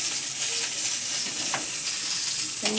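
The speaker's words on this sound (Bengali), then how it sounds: "মাছ ভাজা হয়ে গেছে, তুলে নিলাম।" Fish frying in hot oil in a dark kitchen, a steady loud sizzle filling the whole moment with a couple of brief utensil scrapes, close by and without speech.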